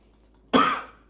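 A single short cough bursts out sharply and close, tailing off over about half a second with no other sound around it.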